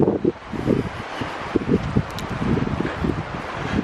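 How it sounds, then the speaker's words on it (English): Gusty wind moving through trees in the North Absaroka Wilderness in April, a steady outdoor rush with soft rustling swells and buffeting against the microphone, no voices. "Wind in the trees, love it."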